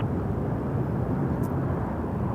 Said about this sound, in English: is a WestJet 425 to Edmonton, and it's a 737 MAX 8.